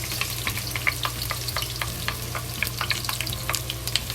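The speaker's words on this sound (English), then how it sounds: "the oil start frying, so put the onion and the ginger and into it" Onion and ginger frying in hot oil, a steady crackling sizzle full of quick pops and spits, close up and fairly loud.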